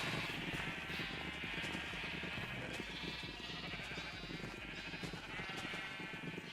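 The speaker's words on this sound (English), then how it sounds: "It's a lot of sheep." Many sheep bleating in Minecraft, overlapping calls repeating steadily at moderate volume from a sheep farm holding one of every colour, with no talk over them.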